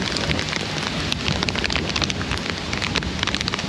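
Heavy rain pours steadily in Laos, a dense close hiss of drops pattering on a hard surface without pause.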